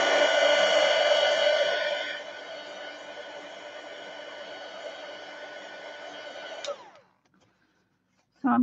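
A hair dryer blows over wet watercolour paint with a steady whirring roar. The roar drops in level after about two seconds, then switches off around seven seconds, and a short knock follows at the end.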